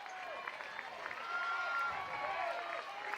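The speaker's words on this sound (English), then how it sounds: "The crowd's starting to get into it here." Crowd noise at a college softball game between Florida and Ole Miss, a moderate wash of cheering and scattered claps in the stadium beneath a commentator's voice.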